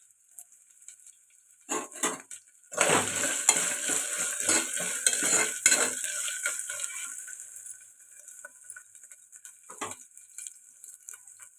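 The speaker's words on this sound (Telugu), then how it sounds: "ఫ్రెష్గా దంచిపెట్టి వేసుకున్న అల్లం వెల్లుల్లి పేస్ట్ ఇది పచ్చివాసన పోయేదాకా ఫ్రై చేసుకుందాం" Freshly pounded ginger-garlic paste frying in a pan for tomato dal, with a loud burst of sizzling and clattering stirring that fades into a softer sizzle, with an occasional spoon knock.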